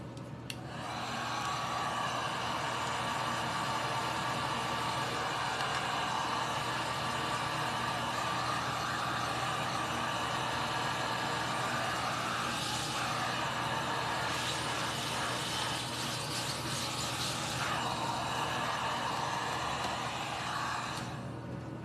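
A hair dryer runs steadily and loudly throughout, blowing on an Easter craft, its constant whirring drone only briefly shifting in tone as it is moved around, with no talking.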